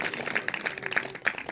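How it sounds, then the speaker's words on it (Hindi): A church congregation claps in praise, with uneven, moderately faint hand claps in a loose rhythm. "उस परमेश्वर के लिए धन्यवाद करें सब तालियों के साथ"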